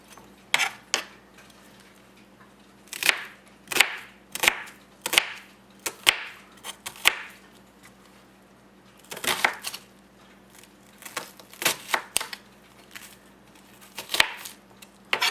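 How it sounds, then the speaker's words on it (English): Knife chopping yellow onions on a cutting board, sharp close cuts in uneven bursts of several strokes with brief pauses between, alone with no talk. "There's our onions chopped up"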